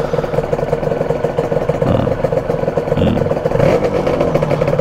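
A Honda NSR250 MC16 motorcycle, fitted with a new CDI, idles close by with a steady, even engine hum. A few brief louder swells break in partway through.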